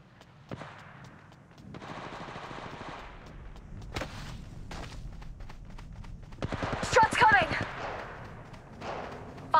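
Automatic weapons fire during Bangalore gameplay in Kings Canyon in Apex Legends Mobile, with loud, rapid bursts and single heavy shots that build to a dense volley, mixed with game voice lines.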